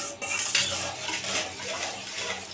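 A spoon scrapes and clinks steadily against a metal pot while pudding mixture is stirred on the stove, a continuous close clatter with small rhythmic knocks and no talking.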